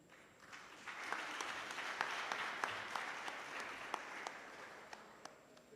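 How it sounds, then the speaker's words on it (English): A fairly quiet, distant round of applause from the audience at an inaugural professorial lecture, swelling slightly and holding steady, with a few sharper individual claps standing out near the end. "Oh, a bigger round of applause, people."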